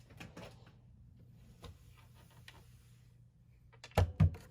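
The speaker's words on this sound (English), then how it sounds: "let me get the Stampin' Cut and Emboss machine out" A Stampin' Cut and Emboss machine being pulled out and set down: scattered soft bumps and shuffles, then two louder thuds near the end, close by with no talk.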